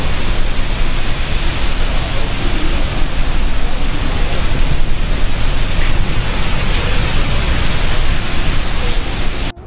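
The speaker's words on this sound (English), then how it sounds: "This is called the cataract pool, and we are actually underneath the waterfalls." Niagara Falls roaring from directly beneath in the cataract pool, a loud, dense, unbroken wash of falling water filling the whole clip.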